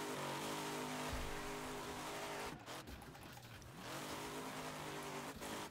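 A modded AM4 race-spec car drifting in Wreckfest on a drift playground track, its engine revving hard and steady with tire squeal, a brief dip as the throttle lifts before it roars back up.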